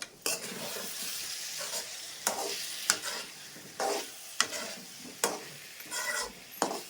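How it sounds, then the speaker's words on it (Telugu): Drumstick pieces being stirred through a tomato curry in a pan, with a steady sizzle under repeated scraping strokes of a spoon at a regular rhythm, close and moderately loud, no talking. "ఈ టమాటాది అంతా ఈ ముక్కలకు పట్టేట్లుగా మంచిగా మనం కలుపుదాం"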